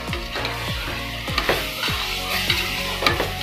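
Cinnamon, clove, cardamom and masala powder sauté in oil for biryani, giving a continuous close sizzle broken by repeated scraping stirs and faint metallic clinks, with no voices.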